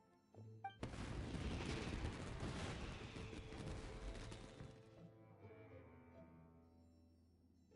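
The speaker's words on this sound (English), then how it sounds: "Yoimiya, this is turning into a bit of a fireworks display." Fireworks bursting in the video game Genshin Impact: a sudden loud blast followed by several seconds of dense crackling explosions that slowly thin out into a fading, echoing tail.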